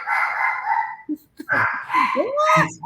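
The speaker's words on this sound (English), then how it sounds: "My dog's barking back there." A dog gives a few sharp barks and yips close by, mixed in with people talking over it.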